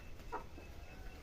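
A hen gives a single soft, brief cluck while being fed in a farmyard in the morning, faint over quiet background noise.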